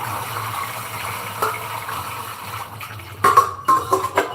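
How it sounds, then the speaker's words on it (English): Water runs from a tap as celery is drained and washed, a steady rushing stream that turns into louder, uneven splashes and gushes toward the end. "Drain the celery and wash the celery."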